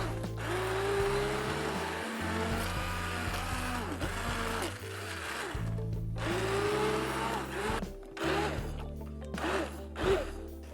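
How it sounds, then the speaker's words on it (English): A blender whirs steadily for about ten seconds, its motor droning loudly and changing pitch slightly as it purees peas; no talking. "we're going to whiz this up with a blender"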